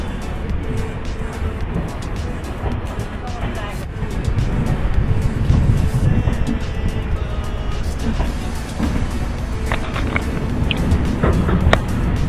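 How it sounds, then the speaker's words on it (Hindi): The Bandra Barauni Avadh Express pulls out of Bettiah railway station, a loud continuous rumble and rattle of the moving train heard from on board, with a voice talking over it. "फाइनली अपनी ट्रेन निकल चुकी है वेस्ट चंपारण के हेडक्वार्टर अपनी बेतिया रेलवे स्टेशन से।"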